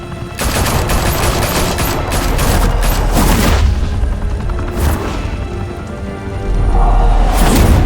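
Loud rapid bursts of gunfire in Batman: The Telltale Series, dense volleys with sharp individual cracks and booms that ease briefly before a fresh burst near the end, no talking.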